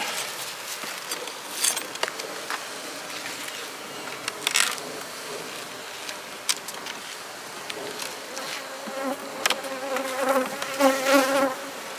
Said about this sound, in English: These bees are working here.